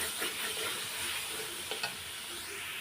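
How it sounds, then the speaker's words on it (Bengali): Chana dal, soaked in hot water, goes into a pan of fried spices, making a soft, steady sizzle with light stirring scrapes and a couple of quick clacks, quiet and close. "এখন আমি ডালগুলো ঢেলে দেবো।"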